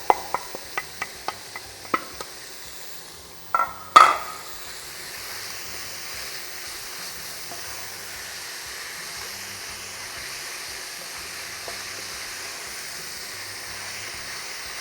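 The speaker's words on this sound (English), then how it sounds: "We're going to add our mincemeat now. 2 cups of minced beef." Minced beef with sweated aromatics frying in a pan: a few sharp clinks and stirring taps open, then a steady close sizzle runs alone to the end.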